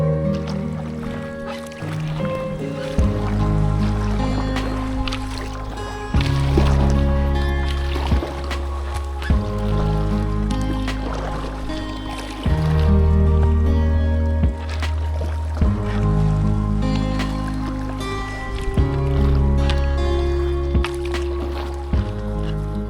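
A boat paddled through thick, muddy river water on the Dubysa, rhythmic heavy paddle strokes with sloshing, squelching water repeating every few seconds, close and loud, no talking.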